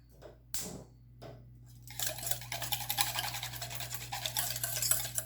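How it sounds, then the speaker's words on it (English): A spoon stirs a gelatin mixture for pomegranate and orange creamsicle gummies, making a steady, close scratchy swishing that starts after a few light taps. A low electrical hum runs underneath throughout. "And so then I would stir this up"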